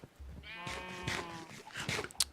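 Sheep bleating inside a pen in the Minecraft Better Than Wolves mod, several wavering game-animal cries following one another at close range with no talk over them.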